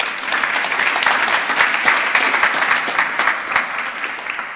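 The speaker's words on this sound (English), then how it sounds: "Big round of applause for Niall." An audience at a startup demo day gives steady, enthusiastic applause after a pitch, many hands clapping continuously in a dense, even wash of sound.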